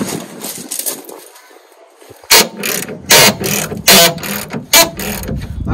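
A ratchet undoing rusty tow bar bolts underneath a Land Rover Defender 110, heard as a few sharp clicking bursts up close after a quieter stretch of faint workshop background.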